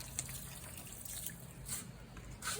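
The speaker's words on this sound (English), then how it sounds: "We water them in really well." Water drips and trickles faintly from freshly watered All Summer Beauty hydrangea cuttings, a few soft scattered drops against a quiet hissing background.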